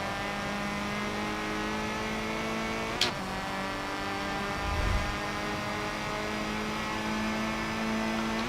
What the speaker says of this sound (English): This car's so loud, like when I'm racing against it, I can barely hear my car.